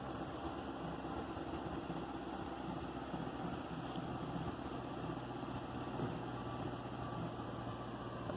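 A 2SS Camaro's LS3 V8 idles steadily, a rumbling low throb and broadband hum, no one speaking.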